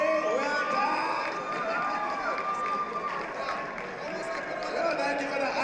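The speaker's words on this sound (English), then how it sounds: "Give a round of applause for Wendy." A crowd at a golf charity event gives a steady round of applause for a prize winner, dense and continuous throughout, with voices mixed in under the clapping.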